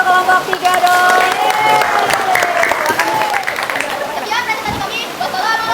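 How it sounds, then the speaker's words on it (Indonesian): Applause for a student group at a classroom training session on AI ethics, scattered clapping mixed with lively children's voices and chatter that carry over it throughout. "beri tepuk tangan untuk kelompok 3 dong."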